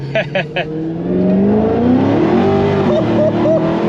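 A cammed Dodge Demon 170 engine accelerating hard in second gear, a loud close rising roar that climbs steadily in pitch, with short bursts of speech over it at the start and near the end.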